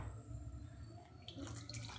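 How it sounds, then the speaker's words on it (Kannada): Water is poured in a thin, continuous trickle onto sugar in a cooking pot for sugar syrup for jamoon, a soft close splashing that brightens toward the end. "ಈಗ ಸ್ವಲ್ಪ ನೀರು ಹಾಕ್ಕೊತಾ ಇದ್ದೀನಿ."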